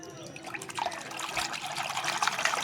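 Water swishes and trickles as it is stirred to mix shampoo into a pool, a steady liquid churning at close range that builds slightly toward the end, with no talk over it.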